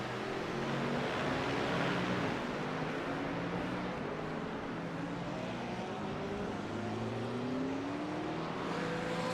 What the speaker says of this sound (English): But Mike Marshall has found a way to make that McLaren be faster than the BMW here today.